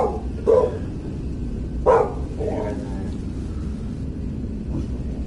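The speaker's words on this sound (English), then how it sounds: "You there, dog." A dog barks twice in short bursts, around half a second and two seconds in, over a steady low rumbling background, with a fainter yip after the second bark; the dog is heard inside the No Man's Sky game.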